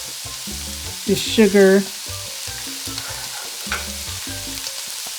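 Garlic, bay leaf, oregano and cumin sizzle in a pot for a black bean soup, with a steady frying hiss and repeated stirring scrapes, while a voice speaks briefly over it.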